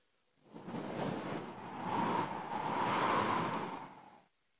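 Wind imitated by someone blowing into a microphone: a rushing, breathy gust that swells, holds for a few seconds and stops abruptly, close and soft.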